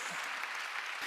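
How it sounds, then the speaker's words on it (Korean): A church congregation at a Sunday worship service claps together in dense, sustained applause for about a second, with no speech over it. "깨달았으면 박수 치라고."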